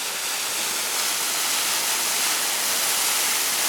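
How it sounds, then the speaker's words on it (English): Falling water from waterfalls inside a cave area roars as a loud, constant broadband rush, close and unbroken, with no voices over it. "there's like water falling everywhere"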